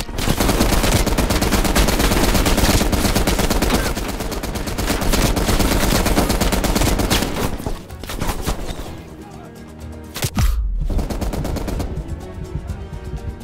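Heavy automatic gunfire in the video game Call of Duty: Black Ops Cold War, rapid sustained bursts that thin out near the end, broken by one sharp loud blast before firing resumes more sparsely.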